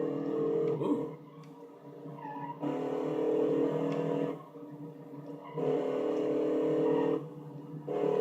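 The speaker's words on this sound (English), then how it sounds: "Get sideways, do a little power slide, see if it gets me through this turn." A 1963 muscle car in a racing video game revs and slides sideways through a turn, its engine droning in surging bursts that dip and climb again, with faint tire scrubbing heard alone without talk.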